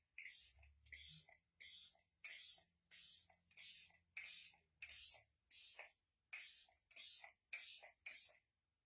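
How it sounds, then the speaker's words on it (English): Everset setting spray by Ophir misted onto the face, about fourteen short, crisp hissing spritzes in quick regular succession, close and alone. "I like to douse myself in setting spray and then I just let it dry."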